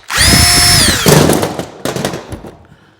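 A power drill whirs loudly at close range for about a second while unscrewing parts from a printer during a teardown, then winds down into a series of clattering knocks and rattles.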